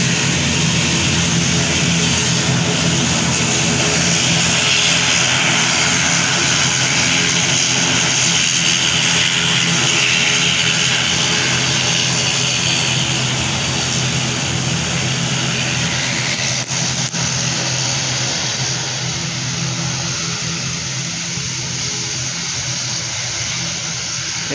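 A Cebu Pacific airliner takes off near Cebu airport, bound for Manila, its engines making a loud, sustained roar that holds steady for the whole stretch and eases slightly near the end.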